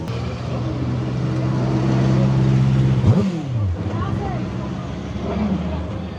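Motorcycles riding past on a busy bank holiday at Matlock Bath, engines droning and one passing close with a sweeping rise and fall, under steady talk from people nearby.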